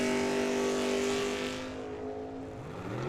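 A Camaro and a Dodge Dart launch in a drag race at Firebird Motorsports Park, engine noise roaring loudly and then fading as the cars pull away down the track.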